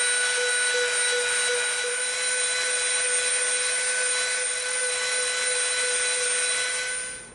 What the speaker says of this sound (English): now we're going to come in with our smooth bit and we're going to soften the edges of this up